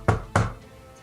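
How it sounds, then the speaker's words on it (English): Two firm knocks on a door, evenly spaced and close, sharp thuds followed by quiet room tone with no talking. "and you hear a knock."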